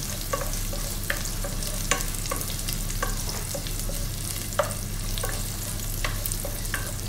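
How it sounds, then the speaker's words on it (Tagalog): Onions are stirred into a pot of sinigang na baboy (pork sinigang). A spoon gives frequent short scraping taps against the pot over a continuous sizzle and a steady low hum, close and even, with no voices. "Ilagay na rin po natin ang ating sibuyas. Haluin lamang po natin."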